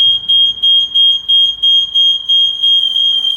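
A smoke detector alarm sounds during a test of an emergency light system, a loud piercing high-pitched beep pulsing in a rapid steady rhythm, then holding as a near-continuous tone.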